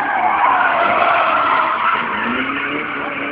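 Drift car skidding around the track at a drift show in Franca, a loud continuous tire screech with engine roar, steady and close throughout without talk.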